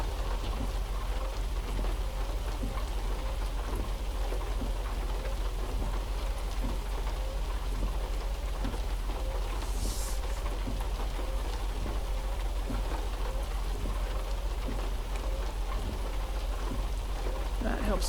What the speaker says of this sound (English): Gosh, the rain does make this harder.